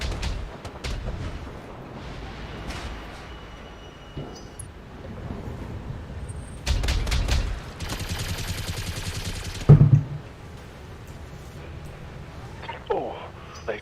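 Turret gunfire in the BattleTech video game: bursts of heavy shots and blasts scattered across the clip, with someone talking over much of it.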